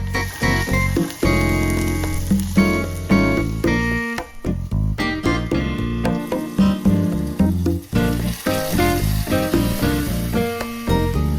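Ribs coated in sauce sizzle on a new grill, a hissing fry largely masked by loud music playing steadily over it throughout.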